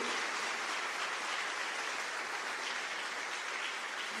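A church congregation applauds during a homily, with steady, dense clapping from many hands that fills the room at an even level throughout.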